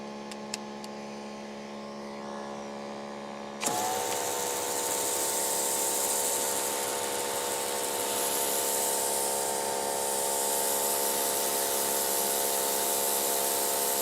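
A Greenworks 3000 PSI electric pressure washer fitted with a turbo nozzle idles with a low electric hum, then bursts into a loud, steady spray hiss and motor whine that runs without a break.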